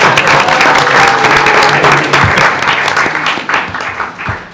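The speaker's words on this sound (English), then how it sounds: "Let's give Ms. Green a round of applause." A school board meeting audience applauds a guest, broadband clapping filling the room steadily and loudly before tapering near the end.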